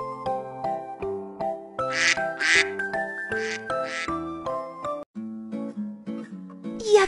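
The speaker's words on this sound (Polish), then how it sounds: "Kaczka!" A cartoon duck in a children's animated show quacks in short repeated calls over bright tinkling music, with a few sharper bursts standing out.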